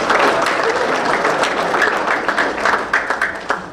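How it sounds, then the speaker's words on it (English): Loud, sustained applause from a crowd at a county sports hall of fame ceremony, dense steady clapping throughout, with a few sharper individual claps standing out near the end. "Please join me in a round of applause"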